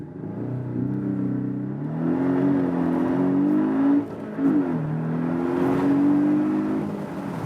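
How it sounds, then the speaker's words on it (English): A Porsche 718 Boxster S in Sport Plus mode with the roof open accelerates hard, its engine note climbing steadily through rising revs, dipping briefly at a gear change around four seconds, then pulling strongly again, loud and close throughout. "Also going to the Sport Plus mode and let's do some nice acceleration"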